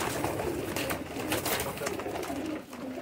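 Pigeons cooing nearby in a loft with flying breeder birds, a continuous soft chorus of overlapping low coos against a busy background.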